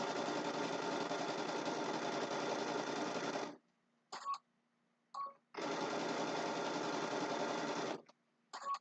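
A sewing machine stitches a quilt border in two long steady bursts of buzzing whir, separated by short pauses with a few brief starts, heard close and alone.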